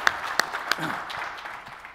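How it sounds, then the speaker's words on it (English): An audience at an Oxford-style debate applauds a speaker, a moderate spread of clapping with a few louder close claps at the start, tapering off toward the end, with a voice briefly speaking over it. "give him a bit of applause to get him going"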